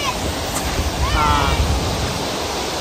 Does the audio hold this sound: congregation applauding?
no